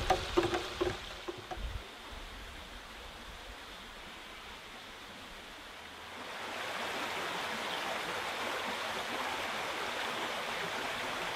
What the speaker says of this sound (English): Nice spot by the river